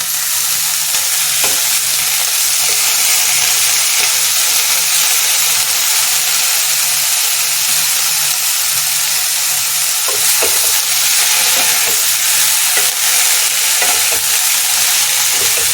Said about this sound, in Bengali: পেঁয়াজ পাতাগুলো দিয়ে আমি একটু নুন দিয়ে দিচ্ছি, দিয়ে এটা ভালো করে ভেজে নেব